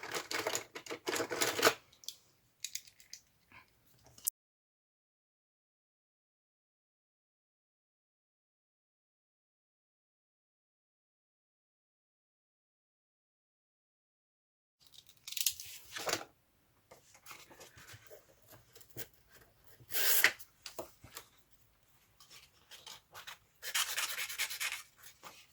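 Cutting out a window in a paper journal cover, heard as close, scratchy bursts of blade scraping and rubbing, broken by a long stretch of silence before several more short cutting strokes.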